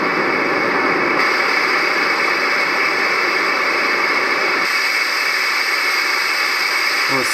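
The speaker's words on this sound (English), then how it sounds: "is white noise." A Roffie white noise sound machine emits a steady, even hiss of static-like white noise, constant and unbroken with a slight shift in tone partway through.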